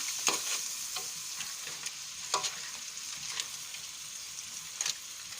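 Seafood paella sizzles steadily in oil in a pan, with a spatula scraping and stirring through it in several distinct strokes that rise over the constant frying hiss.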